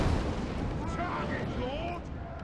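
Cannon fire in a Warhammer strategy battle game, a continuous rumbling din of booming artillery and gunfire with no clear gaps between shots, loud and dense throughout, with faint tonal battle effects in the mix.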